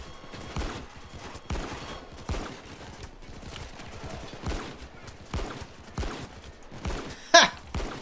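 Gunfire in the game Payday 2: repeated single shots at roughly half-second intervals, loud and sharp, with one louder burst near the end over low game background noise.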